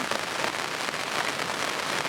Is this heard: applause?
no